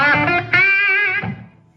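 An electric guitar played through heavy distortion sounds a loud, buzzy sustained note that shifts pitch partway through, then fades out alone.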